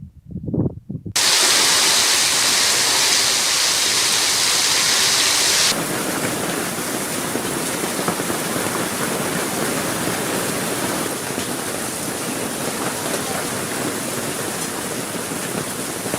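A heavy hailstorm in Madhya Pradesh pounds down as a loud, unbroken roar of hail and rain that fills the whole stretch without letting up.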